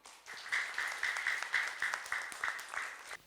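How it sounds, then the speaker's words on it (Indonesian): Quiet applause from a small gathering at a prayer-house religious event, a short burst of many hands clapping that rises, holds in uneven pulses and then fades, heard from a little distance. "Saya boleh minta tepuk tangannya untuk kita semuanya."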